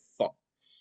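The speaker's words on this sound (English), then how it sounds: "I have hiccups from a little acid reflux" A single short, faint hiccup comes from a person who has acid reflux, followed by a quiet breathy sound with no talk.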